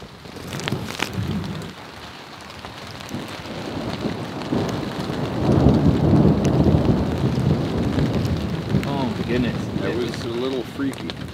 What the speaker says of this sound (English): I don't mind the thunder, the lightning, the rain.